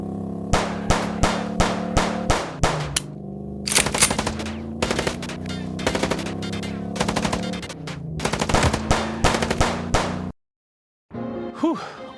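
Rapid bursts of automatic gunfire in the detective game Chicken Police: Paint It RED, loud and close, coming in repeated volleys with short gaps, then a sudden silence and a brief final sound.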